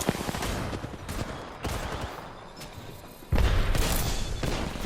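Sustained bursts of video-game gunfire in a Flash arena shooter, dense rapid shots with a sharp louder volley near the end, no voices over it.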